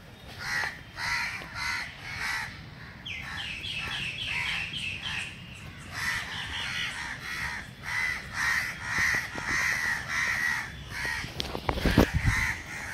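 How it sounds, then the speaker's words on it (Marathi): Crows caw repeatedly and harshly near a crow chick at Solapur's Bhuikot fort, the calls overlapping in steady bursts with a few louder, closer cries toward the end and no talking. "कावळ्याचं पिल्लू इथं बसले."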